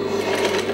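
A sewing machine stitching a costume runs in a steady continuous whir with a rasping mechanical buzz, close and unbroken over the short moment.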